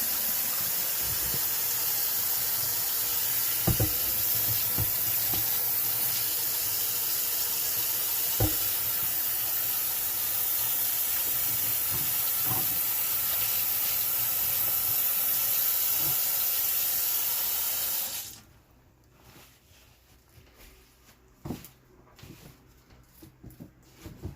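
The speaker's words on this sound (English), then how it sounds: "So now Wash your hands. I'm going to wash my hands." Water runs from a tap as hands are washed in a home kitchen, a loud, steady rushing hiss that cuts off abruptly near the end, leaving quieter clinks and handling sounds.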